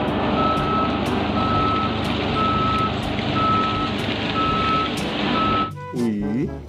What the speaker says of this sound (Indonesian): di sini ada mobil silinder